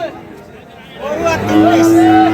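Cattle low at a busy livestock market in Dhaka where Sahiwal cows are bought and sold, one loud, drawn-out moo rising over a murmur of crowd chatter nearby.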